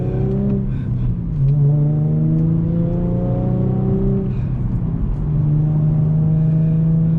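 Manual-transmission car engine revving during rev matching, heard from inside as a loud, close hum that rises and falls through several gear changes, with no talk.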